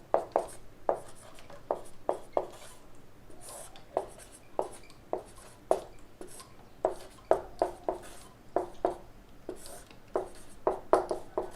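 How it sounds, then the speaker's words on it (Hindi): Chalk or marker strokes on a classroom board during a physics lesson, a steady run of short scratchy taps and scrapes repeating every second or so, close and clear with no talking over them. "मैं यहां लिख रहा हूं उससे आगे का"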